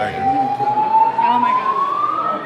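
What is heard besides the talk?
fire alarm going off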